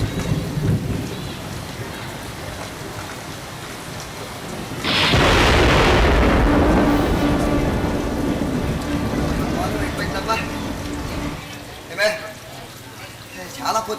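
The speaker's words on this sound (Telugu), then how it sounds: "బయట చోరున వర్షం, పురుగులు మెరుపులు." Heavy rain falls with thunder and lightning, a steady downpour broken by a sudden loud crack and long rolling rumble of thunder, with voices heard at times.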